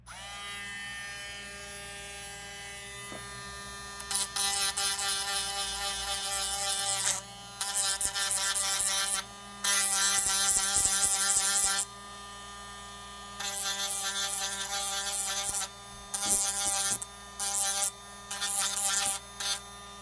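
Electric nail file buzzing against acrylic fingernails during DIY nail prep, a close, high whine running in repeated bursts of a few seconds each with short pauses between, over a steady low mains hum.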